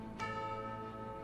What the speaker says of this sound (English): Then I hear the bells. Bells. Tolling.